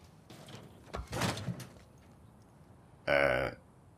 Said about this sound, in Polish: czemu te drzwi tak trzasnęły na mnie?